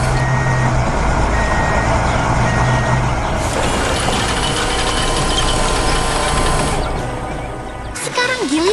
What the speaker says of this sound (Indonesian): truk molen pun tiba tepat pada waktunya.